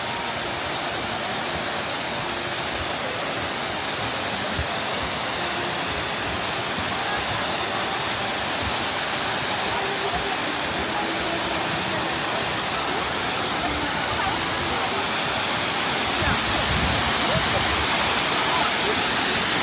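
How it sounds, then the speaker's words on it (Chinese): Liantai Feipu waterfall in the Huanglong scenic area of western Sichuan, China, a wide cascade about 50 metres across, sends out a steady, dense roar of rushing water that fills the whole scene without a break. "這個瀑布叫蓮台飛瀑。"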